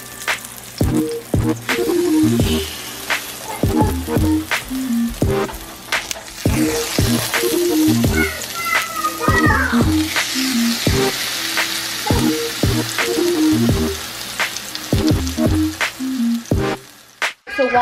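Plant-based vegan burger patties sizzle and fry in a pan, with a steady crackle, spitting pops and occasional stirring or scraping. No one speaks.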